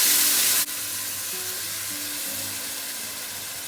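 A loud burst of hissing as tomatoes hit sautéed onions in a hot pan, dropping within a second to a steady, softer sizzle that carries on evenly, with faint low clinks.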